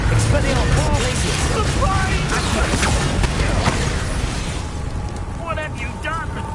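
A Bombarda blasting spell explodes in Hogwarts Legacy amid a dense, loud clash of spell effects and booming bursts, with voices and combat noise layered over it throughout before the din thins slightly near the end.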